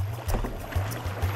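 Canoe or kayak paddling during a chase: close, brisk splashing paddle strokes in a quick, steady rhythm over continuous water noise.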